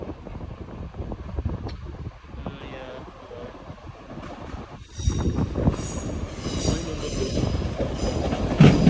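Four-carriage passenger train on the Chiltern line passing nearby with a steady rumble of wheels and a faint squeal. The sound swells louder partway through and carries on to the end.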